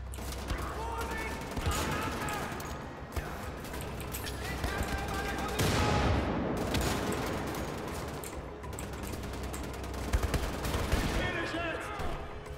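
Gunfire in the shooter game Wolfenstein The Old Blood, with dense bursts of automatic shots and heavy blasts running throughout, loud and continuous, while someone talks over the action.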